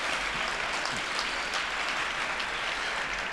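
A live audience applauds steadily, a dense even wash of clapping that holds at the same level throughout with no voices over it.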